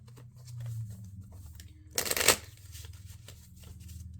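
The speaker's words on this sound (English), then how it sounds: "Let me shuffle these cards." Tarot cards are shuffled in one quick riffling burst of about half a second, close and crisp, between stretches of quiet low murmuring.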